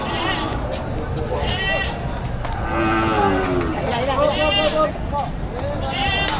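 Cattle low and bleat repeatedly at a livestock market where cows, carabao, goats and horses are sold. The calls rise over a busy crowd and steady chatter, with several animals sounding close by.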